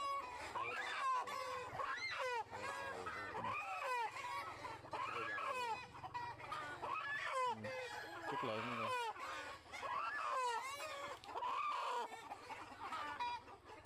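A large flock of about 2000 chickens on a chicken farm clucks and crows continuously, with many overlapping calls at close to mid distance forming a dense, steady din.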